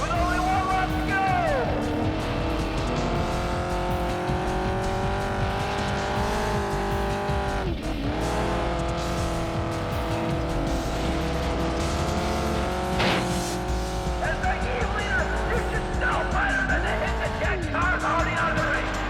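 Race cars in Test Drive: Eve of Destruction roar continuously on the final lap of a flagpole race, with loud droning engines, shifting revs and sharp tire squeals and skids throughout.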